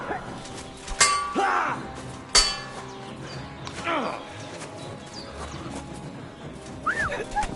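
A dog barks a few times in Kingdom Come Deliverance 2 amid clanking game effects and hooves, with a voice talking over the scene.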